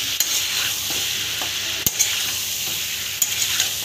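Chicken and potatoes fry in a pan while being stirred, a steady close sizzle broken by a few sharp scrapes and clinks of the spoon against the metal.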